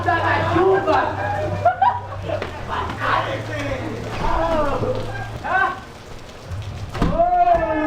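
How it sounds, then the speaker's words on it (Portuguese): Rain pours during an outdoor wrestling match, a steady hiss heard beneath loud, excited commentators talking throughout. "Nunca na história da luta livre alguém defendeu o título no meio de uma tempestade"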